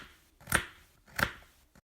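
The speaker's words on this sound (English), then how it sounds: "we need to peel the bananas and slice them into small pieces" A knife slices peeled bananas into small pieces, giving two distinct, soft cutting taps about 0.7 seconds apart, close and quiet, with no talking.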